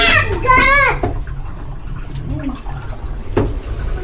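A strong flow of water runs steadily in the background on an outing, with a voice and other people talking loudly over the rushing, splashing sound.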